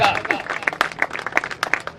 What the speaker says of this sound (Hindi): जोरदार तालियां बजाए सभी